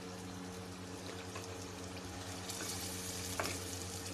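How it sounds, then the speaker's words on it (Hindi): Beef brain frying in a dried-down spice masala, a steady low sizzle and bubbling with a faint hum underneath, quiet and continuous with a small clatter of stirring near the end. "तो अब हम इसमें मगज़ शामिल करेंगे और इसको भून लेंगे।"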